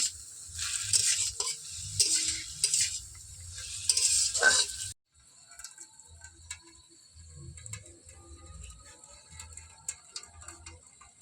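Shredded cabbage is stirred in a hot pan with a little oil and a splash of water, giving a hissing sizzle and scraping for several seconds before it settles into quieter sizzling with occasional light spoon scrapes.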